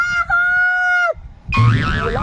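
A voice imitates a rooster's crow: a long, steady, high call that breaks off, then a shorter wavering second call after a brief pause.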